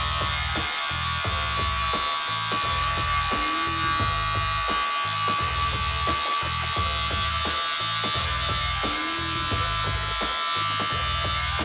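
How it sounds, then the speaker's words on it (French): Electric hair clippers set to their shortest length buzz close up while trimming a fade haircut, making a steady loud drone with a rhythmic pulsing as they pass repeatedly through the hair. "Donc je le ferme et là on est vraiment au plus court de la tondeuse et on va venir gommer la première ligne."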